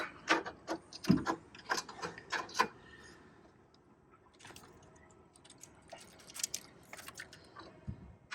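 A hand ratchet drives screws in quick bursts of clicking, a dense run of ratcheting early on, then scattered clicks after a short pause.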